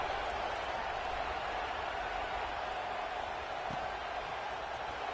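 Steady stadium crowd roar from a College Football 26 game, South Carolina versus Alabama, a broad continuous wash of distant voices and murmuring holding level throughout with no distinct cheers or talk.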